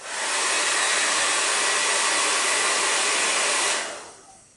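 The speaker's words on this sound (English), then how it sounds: "point the blow dryer at the middle of the hat and all around the band" A blow dryer on its highest setting blasts a steady, loud rush of air at a New Era fitted hat, holding constant for nearly four seconds before cutting off and fading quickly.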